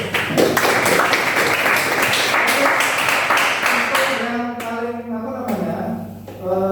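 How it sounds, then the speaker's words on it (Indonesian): Classroom applause from students in a biology lesson, steady dense clapping for about four seconds that thins out and stops, with a voice speaking as it dies down. "Aplaus."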